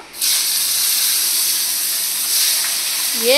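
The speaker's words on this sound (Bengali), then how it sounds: "মাছগুলো লবণ হলুদ মাখিয়ে নিয়েছি, তেল গরম হয়ে গেছে, ভেজে নেব।" Pieces of bhetki fish coated in salt and turmeric hit hot oil and set off a loud, close, continuous sizzling hiss that holds steady throughout. A voice starts in just at the very end.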